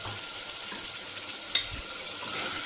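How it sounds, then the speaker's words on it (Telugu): Crushed tomato goes into onion paste frying in a pan, giving a soft, steady sizzle with quiet stirring scrapes and one brief sharp clink from a utensil partway through. "ఇప్పుడు టమాటా క్రష్ చేసి పెట్టుకున్నాం కదా, అది కూడా ఈ ఆనియన్స్ పేస్ట్లో యాడ్ చేసేస్తాను"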